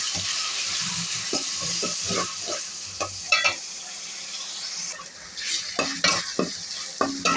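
Ginger, garlic, green chilli, bay leaf and cardamom sizzle softly in a pan while a utensil stirs and scrapes in irregular bursts, up close.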